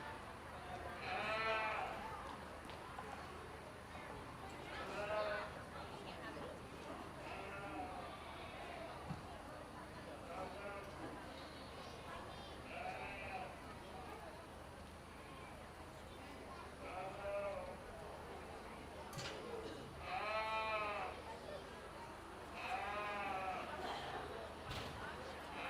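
Sheep and goats bleat repeatedly at a school livestock show, their wavering calls rising over a steady crowd murmur and an announcer's voice in a large show barn.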